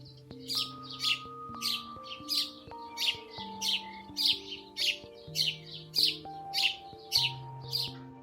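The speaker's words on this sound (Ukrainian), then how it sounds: "Давайте послухаємо як вони весело цвірінькають." Sparrows chirp in quick, bright bursts, about a dozen in a steady rhythm, close and lively with no other sounds around them.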